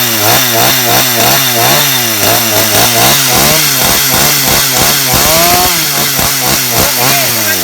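A STIHL MS250 chainsaw runs loud and close, its two-stroke engine buzzing with rapid rhythmic revving pulses and a brief higher-pitched rise, with no talking.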